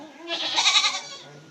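A single goat bleats close and loud on a family goat farm, one wavering cry lasting about a second with no other sounds around it.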